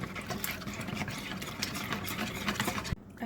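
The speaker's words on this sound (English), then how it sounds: "I'm going to whisk this together" Egg and Greek yogurt are whisked together in a bowl, giving a fast, continuous scraping patter close by. It stops abruptly near the end.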